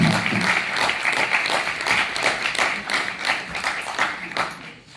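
An audience at a citizens' meeting in Conches-en-Ouche claps loudly in a thick, steady burst. The applause runs continuously and then tapers off near the end.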